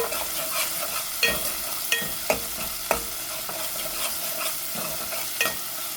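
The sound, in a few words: stirring asafoetida and spices frying in a pan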